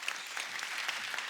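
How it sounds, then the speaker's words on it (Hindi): A short burst of steady audience applause, many hands clapping at once in a dense, even patter. "जोरदार तालियां"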